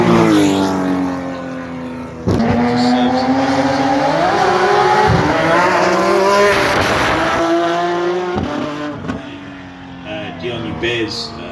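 A race car at the Simola Hill Climb roaring past with a loud engine rising and falling, tyres squealing, while a commentator's voice talks over it.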